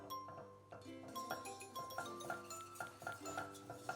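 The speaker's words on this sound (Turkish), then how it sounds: "Tereyağımı pıt attım. Unumu da koydum. Şöyle kokusu çıkıp hafifçe pembeleşene kadar kavuruyorum." Spoon scraping and clinking against a pot as flour roasts in butter for béchamel, quiet rhythmic metallic taps repeating about twice a second, close by.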